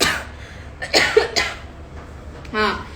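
A single short cough bursts out near the start, followed by brief vocal sounds and another throat noise, close to the mic.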